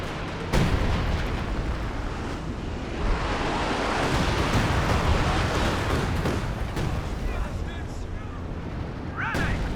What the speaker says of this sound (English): Artillery cover has been doing some, a little bit of damage.